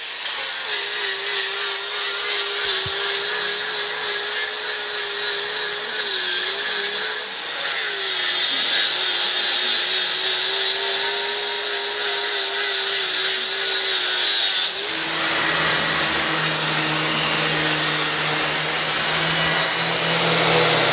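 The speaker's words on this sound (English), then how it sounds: "That's our iron keel. First stage is getting sanded back." A power sander grinds steadily back along a boat's iron keel, a loud continuous whine that shifts to a lower, rougher pitch partway through as the tool changes pressure or position.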